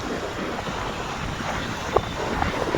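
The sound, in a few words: strong stormy wind blowing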